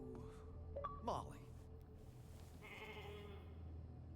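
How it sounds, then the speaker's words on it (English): A sheep bleats in the video game The Alters: a single short, wavering bleat near the start, set over steady droning game tones and background ambience. "Pet the sheep."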